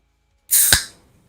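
A can of Monster orange dreamsicle energy drink pops open close by, a sharp crack followed by a fizzing hiss that fades over a second.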